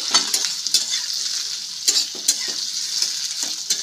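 Eggs frying in a pan for egg chilli, a steady bright sizzle punctuated by several short stirring scrapes and taps, close and clear with no speech.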